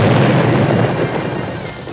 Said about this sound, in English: Sound like a big explosion.